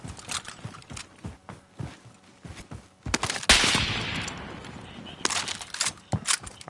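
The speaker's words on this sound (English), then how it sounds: "Someone just shot at me, though." Gunfire in Call of Duty Warzone, repeated sharp shots in bursts throughout with a dense volley in the middle, close and loud, mixed with game sounds.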